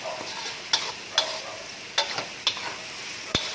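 Pork simmering in a pot while being cooked into a sweet-salty braise, a soft steady bubbling hiss punctuated by a few sharp clicks and taps of a utensil, close and fairly quiet.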